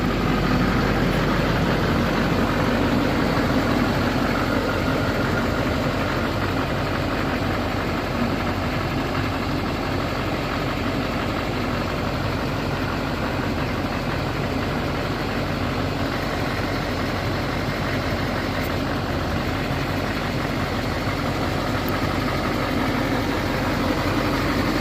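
A diesel pickup with an LBZ Duramax engine idles steadily, a continuous low rumble with an even clatter, close and constant throughout with no talking.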